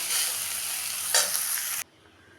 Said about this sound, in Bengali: এখন আমি এটাকে একটু ভাজা ভাজা করব।